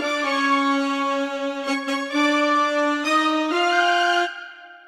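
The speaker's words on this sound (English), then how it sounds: "Now here I've also added another set of trumpets that kind of go along with the saxophones as well." Trumpets and saxophones play together in a bright Mario Kart style brass passage, long held notes rising stepwise with brief articulations, loud and unaccompanied by voices, ending with a short fade.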